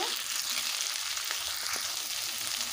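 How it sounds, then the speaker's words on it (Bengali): Pieces of pointed gourd (potol) fry steadily in hot oil, a dense, even sizzle that holds at the same level throughout with no voice over it. "এবারে দিয়ে দেবো পটলগুলোকে আমি ভালোভাবে একটু ভেজে নেব।"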